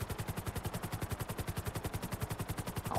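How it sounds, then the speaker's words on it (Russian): Rapid helicopter-mounted machine gun fire in GTA V Online, a steady stream of evenly spaced heavy shots for the whole stretch, loud and close with rotor-like pulsing beneath. "Двое на пулеметах."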